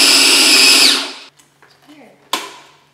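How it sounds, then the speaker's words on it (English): A food processor whirs loudly and evenly as it chops cauliflower into rice, then shuts off abruptly, leaving a few faint clatters and a brief burst of speech afterward. "So you get your food processor out."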